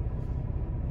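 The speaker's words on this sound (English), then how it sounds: "Just gonna wait for a couple of vehicles to go by here" Vehicles pass on the road near an idling truck with an automated PACCAR Endurant 12-speed transmission, giving a steady, loud low rumble of engines throughout with no talking.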